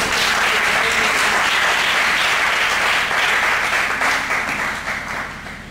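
A church congregation applauds loudly and continuously, a dense wash of many hands clapping together that holds steady and then begins to fade near the end.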